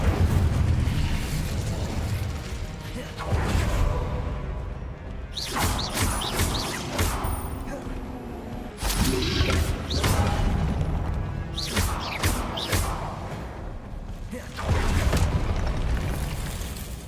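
Spell explosions in the Hogwarts Legacy video game go off as a series of loud, close booms and crashing bursts, several blasts following one another with short gaps.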